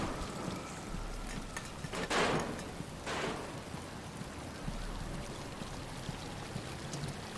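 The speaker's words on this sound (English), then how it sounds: "But it's starting to rain." Rain begins falling in a Batman: Arkham Asylum cutscene, a quiet, continuous wash of patter with two brief louder gusts of noise early on.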